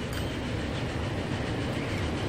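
A train rolls past in the railway simulation game Transport Fever, a steady, dense rumble of wheels and carriages that stays loud and even from start to finish, with no talking.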